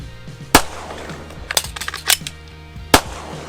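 Zev OZ9 pistol firing at shooting practice: two sharp, loud gunshots about two and a half seconds apart, with quieter clattering handling noises between them.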